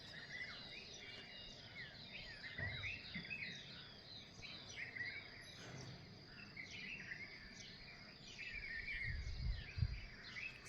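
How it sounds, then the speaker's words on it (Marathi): Morning bird chirps and twitters sound faintly and repeatedly through quiet outdoor air, with insect-like trilling and soft low rumbles underneath. No one speaks. "पक्ष्याची किलबिल तुम्हाला आता ऐकूच येत असेल"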